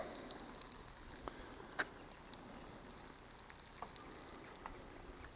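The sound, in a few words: water poured from a milk bottle with holes onto seedlings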